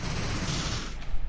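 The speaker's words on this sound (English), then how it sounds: "We see some minor gunfire in B" A burst of dense, rapid gunfire from a competitive video game match, loud and continuous for about a second before cutting off into quieter ambience.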